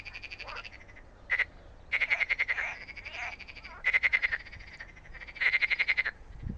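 Several frogs croak in rapid trilling bursts at a villa garden with olive trees, pausing briefly between rounds, loud and near with no other sounds.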